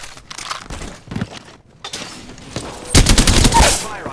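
Bursts of automatic gunfire in the battle-royale shooter Apex Legends, with scattered shots early on giving way to a dense, loud volley near the end; voices are heard briefly in between.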